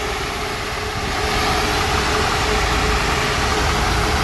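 Rear-mounted engine of a double-decker intercity bus running at a steady idle, loud and close with a constant broadband drone that swells slightly after the first second.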